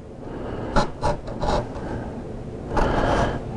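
A knife cuts into a drywall wall over a stud, giving several short scraping, rasping strokes at close range with pauses between them and a longer scrape near the end.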